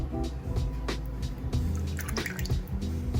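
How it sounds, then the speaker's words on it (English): A cup of milk, then two tablespoons of oil, poured into Caribbean-style pancake batter with a cracked egg, giving a continuous close liquid splashing and glugging with small drips throughout. "I'm gonna put in my cup of milk. And I'm gonna put in my 2 tablespoons of oil."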